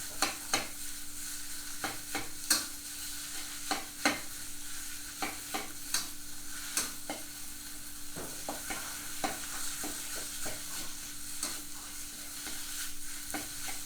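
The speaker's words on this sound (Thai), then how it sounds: "ผมจะตามด้วยเนื้อหมูสับครับ ผัดให้เข้ากัน" Minced pork stir-fries with curry paste in a hot pan, a low sizzle punctuated by frequent sharp scrapes and taps of a spatula in an irregular stirring rhythm, close and alone.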